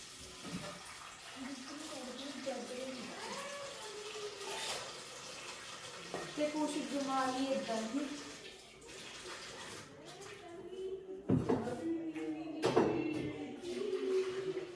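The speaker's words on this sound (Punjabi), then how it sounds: "ਲਓ ਜੀ ਤਾਂ ਬਾਲਟੀ ਚ ਪਾਣੀ ਪਾ ਦਿੱਤਾ" Water from a tap runs and splashes into a bucket in a home setting, a steady trickling pour with some sloshing, while people talk faintly nearby.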